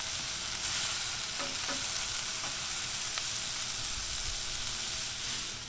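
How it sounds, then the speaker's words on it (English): Chicken wings fry in oil on a Blackstone 22-inch griddle, giving a steady, loud broadband sizzle throughout, with a few faint scrapes as they are stirred around. "So kind of stir them around there in the oil a little bit."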